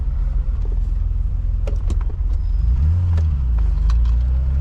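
A BMW E28 535is with a low-RPM misfire pulls away in first gear, its engine a steady, close, loud low rumble that rises slightly as the car moves off, with a few faint clicks and no talk.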